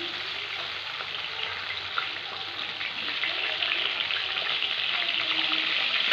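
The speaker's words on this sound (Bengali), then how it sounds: "এই পেঁপেগুলো দিয়েও ভেজে নেব।" Four pieces of papaya fry in hot oil in a pan, a steady crackling sizzle that holds close and constant and grows slightly louder toward the end.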